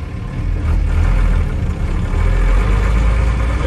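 A Unimog U1300L truck with an 8-speed manual transmission, its diesel engine running with a loud, steady low rumble close by and no voices.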